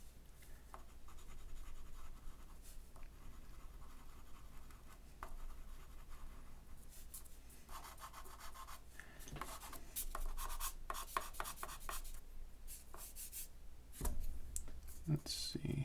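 White charcoal scratches across paper in short, faint strokes and rubs, growing denser and slightly louder toward the end, with soft clicks and a low background hum.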